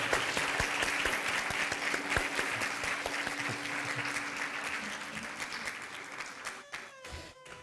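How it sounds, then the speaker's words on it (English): Audience applause at a Bharatanatyam arangetram, a dense, steady clapping from a crowd that carries on for several seconds and then thins into a few scattered claps and fades. "let's all give him a big round of applause"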